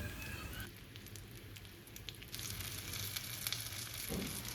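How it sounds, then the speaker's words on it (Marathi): Pomfret fish frying on a tawa over a medium flame, giving a steady, moderate sizzle with crackly bursts throughout, no voices. "आता पापलेट फ्राय करण्यासाठी तव्यावर टाकलेला आहे आणि गॅस आपल्याला हा मीडियम फ्लेमवरच ठेवायचा आहे"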